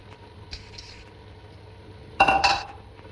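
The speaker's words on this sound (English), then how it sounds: "and mix our mixture" Spoon scraping and clinking against a bowl while vegan pumpkin kebbe mixture with split chickpeas is mixed, a quiet start then a short burst of loud clattering near the end.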